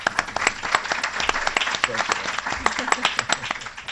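A room of people applauding a filmmaker at an ocean-themed film event, with dense clapping and sharp individual claps standing out, steady and fairly close throughout.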